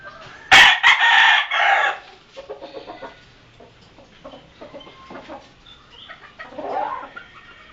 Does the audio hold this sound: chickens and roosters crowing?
yes